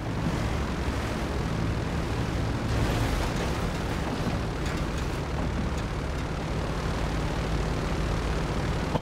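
Airplane engine roaring during a damaged plane's crash landing with half a wing in GTA 5 Online, a loud, unbroken wall of engine and wind noise with rumbling surges and no talk.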